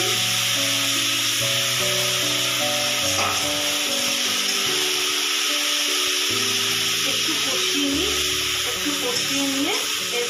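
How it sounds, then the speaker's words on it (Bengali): Onion paste and spices for Bengali mutton kosha fry in a pan with a loud, steady sizzle and slow stirring scrapes, while a tonal background bed plays throughout. "এবার আমি আস্তে আস্তে এই মশলাটা একটু ভাজা ভাজার মতন করবো।"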